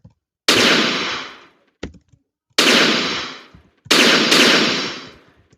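Dynamite explosions in a video game: three loud, sharp blasts, each with a long crackling decay, plus a short thud between them and a final double burst close together, with no talking.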